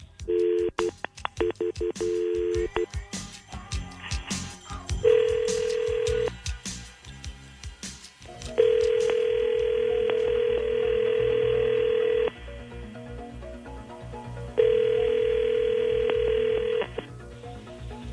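A telephone call placed during a live radio show: a steady dial tone, a quick run of keypad dialing beeps, then repeated long ringback tones separated by short gaps, heard clearly with no talking.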